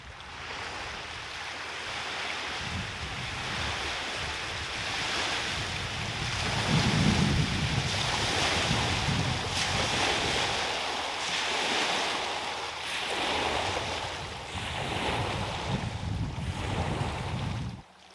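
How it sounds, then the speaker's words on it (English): Wake waves from a passing tour boat wash onto a lake shore in Waterton Lakes National Park, surging and receding in repeated close, loud swells. "And like an echo, the wake of waves followed."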